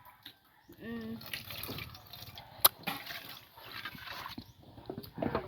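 Rainwater pours and drips into a pot at a rural Thai home, heard as irregular splashes and trickles with a sharp clink, while people talk quietly over it.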